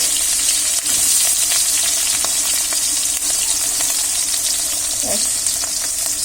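Onions dropped into very hot oil in a pan for fried rice, giving a loud, steady, close sizzle with light stirring scrapes throughout, and no voices.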